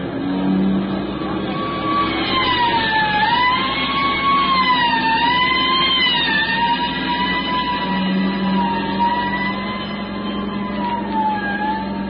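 Sirens from a police car chase wail continuously over traffic, their rising and falling tones overlapping as several fast cars close in, with steady engine noise underneath and no talking.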